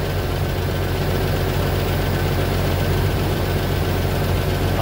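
A 2001 Jeep Cherokee XJ with a swapped-in 4.0 engine idles just after starting, a steady, loud, low droning hum that holds even throughout with no talking.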